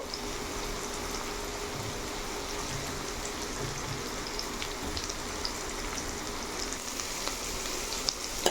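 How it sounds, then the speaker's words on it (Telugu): Green chillies and curry leaves fry in a pan with a continuous, even sizzle and faint crackles, close and steady throughout. "వేసి ఫ్రై చేసుకోవాలి. ఇది కొంచెం మనకి గోల్డెన్ బ్రౌన్ రావాలి."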